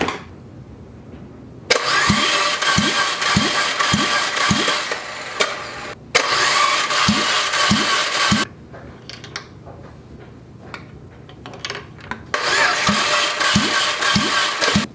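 Fiat junkyard engine cranking over on the starter during a wet compression test with oil squirted into the cylinders: three separate loud bursts of rhythmic whirring chugs, each lasting a few seconds, with quieter pauses between them.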